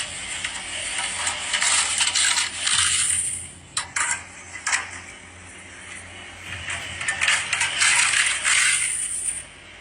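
A silver quarter dropping and ringing against a hard surface, with clattering bounces and a bright shimmering ring that fades out.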